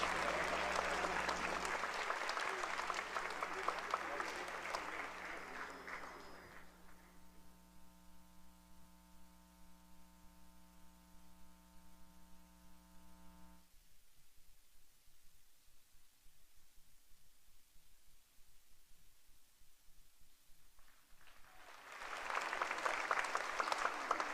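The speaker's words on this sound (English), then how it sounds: "Let us give them a roaring applause as they come on stage" Loud, broad applause from a festival audience welcoming a performing ensemble on stage at the 2017 Seonghwa Festival. It fades after several seconds into a quiet electrical hum with steady tones, then swells back in near the end.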